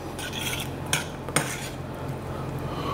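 Autumn fruit being stirred into boiling stock in a cooking pot for a fruit ragout, with a steady bubbling hiss, soft scraping and two sharp clinks of a utensil against the pot.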